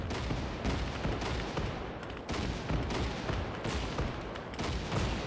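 Heavy artillery rounds exploding in Gates of Hell, a dense roaring barrage that pulses in big repeated waves, each burst loud and full, with brief dips between them.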